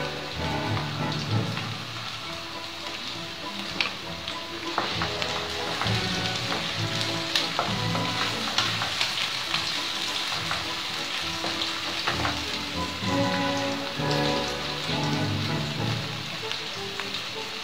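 Onion frying in about 70 ml of oil sizzles and crackles steadily and loudly, up close, with no pauses.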